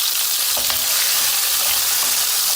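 Mushrooms sizzle steadily in hot oil in a pan for a Turkish chicken dish, a dense continuous frying hiss with a few soft stirring knocks, close and fairly loud with no voice.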